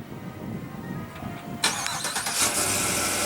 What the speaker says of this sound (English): then you have your remote engine start